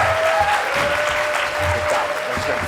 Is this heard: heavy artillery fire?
no